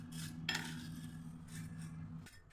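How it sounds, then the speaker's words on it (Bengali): Fried flattened rice being tossed together with spices, nuts and curry leaves in a metal pan, giving a few clinks and scrapes of a utensil against the vessel, close and fairly quiet. "এইবারে সব একসাথে মিশিয়ে দেবো চিড়ে ভাজার মধ্যে, সব মশলা বাদাম কারি পাতা"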